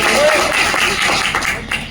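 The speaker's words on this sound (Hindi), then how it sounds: "जोरदार टीचर के ताली बजाएं।" An audience clapping for a teacher at an event hall, a dense wash of applause from many hands, loud and sustained for the whole moment.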